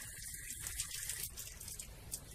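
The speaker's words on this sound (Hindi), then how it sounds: "गणेश जी की नाक से, मुंह से पानी निकल रहा है" At a zoo in Kanpur, water pours steadily from the nose and mouth of a Ganesh statue fountain, a soft continuous splashing heard up close with faint background noise.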